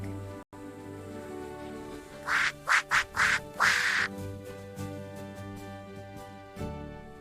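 A duck quacks several times in a quick run of short, bright calls over a soft backing melody in a children's nursery rhyme, then falls quiet.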